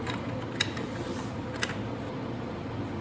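A ratchet wrench clicks in a few sharp, separate strokes while tightening something on a motorcycle being prepped for winter, heard close and fairly quiet over a low room hum.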